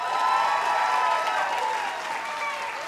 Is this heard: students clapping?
yes